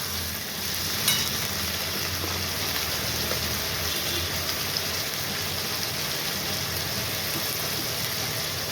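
Steady sizzling hiss of ginger, garlic and onion paste frying in oil over fried taro stems for a prawn curry, continuous and close with occasional stirring clicks, no talk.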